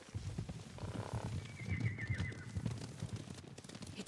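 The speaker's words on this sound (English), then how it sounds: "Horses, they're coming for us." Horses approach through a busy outdoor scene in the samurai game Ghost of Tsushima, with low rumbling hoofbeats and a brief whinny-like tone mixed into steady ambient noise at moderate level.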